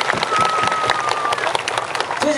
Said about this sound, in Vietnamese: chúng ta vỗ tay để chúc mừng lễ Chúa Giáng sinh đi